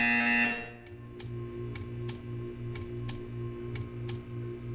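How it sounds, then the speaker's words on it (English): In the video game Portal 2, a loud harsh buzzer blares briefly at the start, then gives way to a steady run of evenly spaced ticking clicks over a low electronic hum. "You will hear a buzzer."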